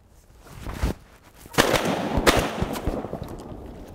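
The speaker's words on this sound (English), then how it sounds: "I think you wound up making the final shot there" Shotgun blasts fired while duck hunting outdoors: two or three sharp, loud reports, the first near 1 second and the strongest around 1.6 and 2.3 seconds, each trailing into open-air rumble.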